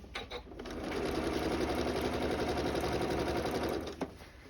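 A sewing machine stitches quilt binding in one sustained, rapid whirring run of close, even needle strokes, starting and stopping with a few clicks.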